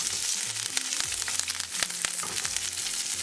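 Green chilies and curry leaves tempering in hot oil for dhokla, a close, continuous crackling sizzle that stays at an even level throughout.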